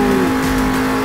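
A monster truck engine in the Monster Jam Steel Titans video game revs high and strained, a loud sustained whine holding a steady pitch with no voices.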